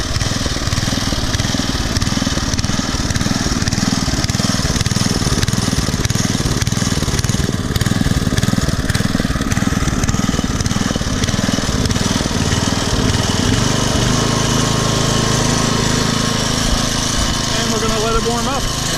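A Briggs & Stratton 5HP engine on a garden tiller runs steadily with a loud, continuous rumble, its speed surging up and down slightly throughout.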